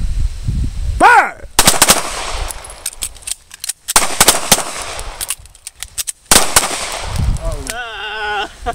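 Gunfire from an emergency magazine exchange shooting drill, loud close bursts of rapid shots in several clusters separated by brief pauses for the reload, with voices heard between strings.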